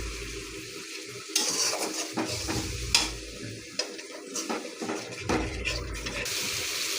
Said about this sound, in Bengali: সামান্য পরিমাণে একটু পানি দিয়ে কষাই নিব